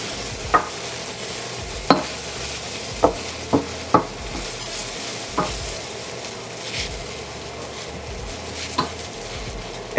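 Bagoong fried rice made with day-old rice and soy sauce, stirred and tossed in a pan over a steady background sizzle, with sharp scrapes and clacks of a utensil against the pan recurring irregularly throughout.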